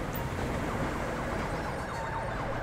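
An ambulance siren in the video game GTA V wails in a faint, rising and falling pattern, partly buried under a heavy rumble of engine and traffic noise.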